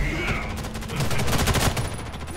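SMG fire in the shooter game Ghost in the Shell: First Assault rattles out in rapid bursts, growing denser midway and then tapering off.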